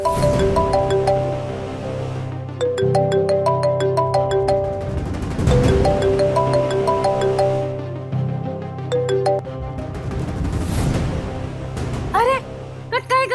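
A mobile phone ringtone plays a repeating melodic chime pattern in a domestic drama scene, clear and fairly loud, cycling several times with swelling background music before cutting off.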